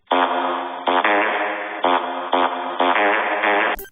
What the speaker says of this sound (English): And who could forget the fart song?